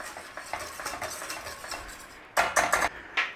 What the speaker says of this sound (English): Get that stir in.